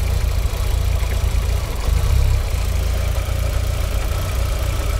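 An Audi TT MK1 engine idles with the airflow meter plugged in while a fault is being traced, giving a loud, steady low rumble with a faint mechanical patter and no one speaking.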